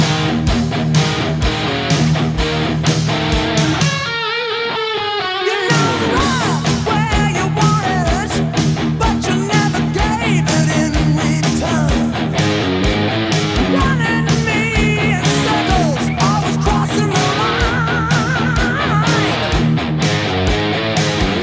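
Electric guitar plays a lead fill from verse 2 of a song over a driving full-band rock backing, loud and dense, with a short break in the middle before the band comes back in.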